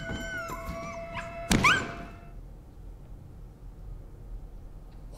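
A dog in the film John Wick whimpers in high, wavering cries, cut off by a sharp thump, followed by quiet low rumble.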